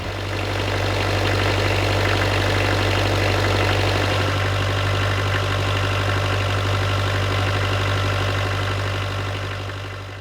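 A repaired sailboat engine idles steadily and loudly for the whole stretch, with a constant low rumble and no talking.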